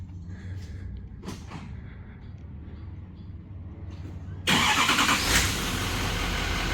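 A GMC Denali truck engine starting by remote start, a few quiet creaks and clicks, then a sudden crank and catch into a loud, steady idle up close.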